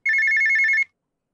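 A video game phone in Dayshift At Freddy's 3 rings in a quick, evenly pulsed electronic trill lasting under a second, loud and isolated, then cuts to silence.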